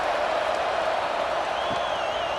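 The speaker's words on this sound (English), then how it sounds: "this crowd is buzzing after that last score" A football stadium crowd buzzes after a score as a team lines up to kick off, a steady, dense roar of many voices holding at an even level throughout, with a faint whistle-like tone drifting in near the end.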